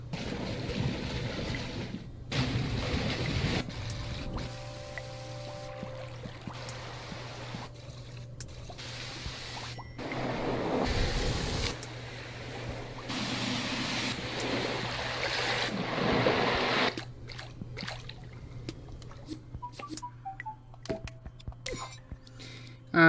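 Light water ripple sound loops in the Dreams video game on PS4, soft washing, surf-like water swells that start and stop in segments, separated by near-silent gaps and a steady low hum.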